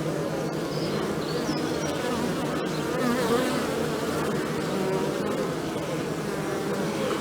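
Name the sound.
honeybees flying in and out of hive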